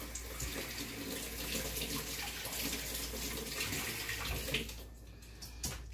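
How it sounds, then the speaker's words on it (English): Cold tap water splashes steadily into a sink for several seconds, with faint clatter as skewers are rinsed under the stream. "what I'm going to do first is just run these under cold water."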